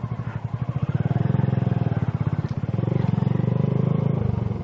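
A motorcycle pulls away from a standstill, its engine close and steady, a rapid thudding putter that rises slightly in pace as it gets underway.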